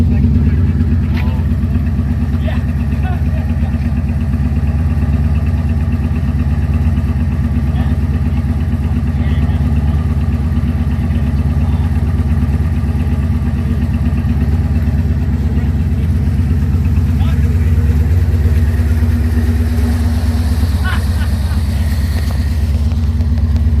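A 1985 Corvette engine running without mufflers rumbles loud and close in a deep, steady idle throughout, with faint voices underneath.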